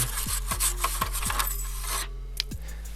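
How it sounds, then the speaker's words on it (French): A wire brush scrubs surface rust off the heater box of a 1976 BMW 2002, in steady repeated strokes with short rasping scrapes, close and moderately loud, with a faint low hum behind it. "Un petit coup de brosse encore une fois pour enlever la rouille de surface."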